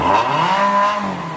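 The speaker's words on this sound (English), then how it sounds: "This is a Nissan Altima with a muffler delete. But it got a Hellcat engine in it also." A Nissan Altima fitted with a Hellcat engine and a muffler delete revs loudly and up close, a rising, sustained engine roar with a steady tone that holds and then eases slightly.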